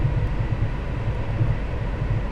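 A Class 700 train runs steadily in Train Sim World 3, giving a continuous low rumble with rhythmic rolling thuds, heard close and alone.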